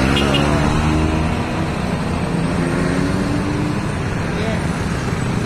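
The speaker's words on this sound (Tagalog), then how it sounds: "Traffic sa mga motor. Ang daming mga motor." Heavy street traffic in Marikina, Philippines, with many motorcycles crowding the road; a steady, dense engine rumble and road noise carries on throughout the clip.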